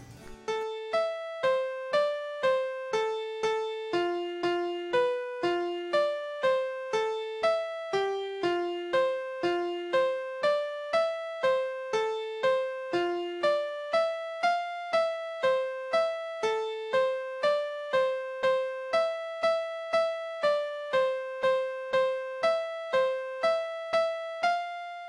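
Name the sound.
melody transcribed from painted musical notes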